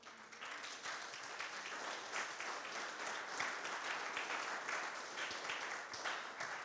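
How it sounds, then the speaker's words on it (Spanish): Church congregation clapping together, a sustained moderate burst of applause that swells and holds over several seconds, heard from some distance. "Dele un aplauso, hermano."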